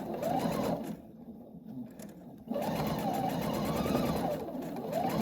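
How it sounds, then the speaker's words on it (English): Sewing machine stitching a quarter-inch seam on a rainbow sampler quilt block, running steadily in two long bursts with a brief slower pause between them, close and fairly loud with no talking. "you'll stitch a 1/4 of an inch seam allowance there"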